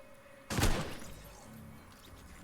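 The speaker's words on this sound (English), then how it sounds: "He's shooting. I've hit him like 3 times." Gunfire from a pistol in a first-person shooter video game: a loud burst of shots at the start, followed by quieter game noise and a sharp report at the very end.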